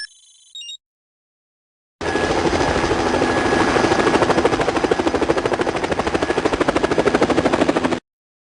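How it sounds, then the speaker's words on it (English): Helicopter in the 1996 PC video game Spycraft: The Great Game, a loud, steady rotor drone with fast chopping pulses running for about six seconds after a brief electronic beep and a silent gap. "I've got a chopper headed your way."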